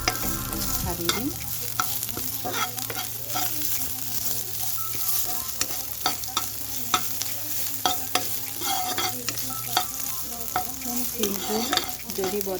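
Dal frying in a pan for Assamese khar dali, a steady sizzle with frequent scraping and clinking of a spoon stirring against the pan, close and continuous with no talking.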